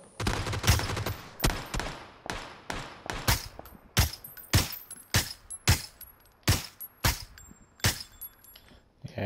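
Gunfire in PlayerUnknown's Battlegrounds: a steady run of sharp, loud single shots, around a dozen evenly spaced bursts with echoing tails between them, and no talking over them.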